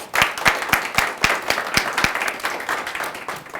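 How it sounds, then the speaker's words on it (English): A small group claps for school officials at a county public-education event, with sharp distinct claps at first that thin into a scattered, softer patter. "Let's give them another round of applause."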